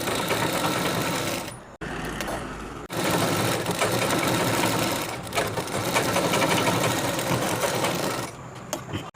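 Sewing machine stitching the side seam of a men's kurta, a fast steady whirring run close by that halts briefly twice and then carries on until near the end.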